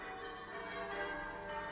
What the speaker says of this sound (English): Aren't the bells wonderful?